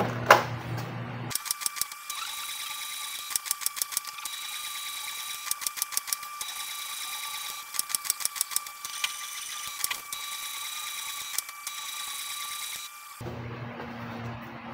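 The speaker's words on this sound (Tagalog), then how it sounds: "Okay, we're done with head cleaning." Canon G-series inkjet printer running a head cleaning cycle: a quiet, steady mechanical whir punctuated by bursts of rapid clicking and ticking, starting and stopping abruptly.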